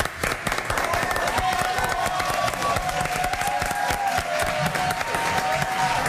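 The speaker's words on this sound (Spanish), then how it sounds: "Se les despide con un gran aplauso." Studio audience of a television cooking show giving sustained applause, a dense continuous patter of many hands mixed with crowd noise and a steady tone, heard without speech throughout.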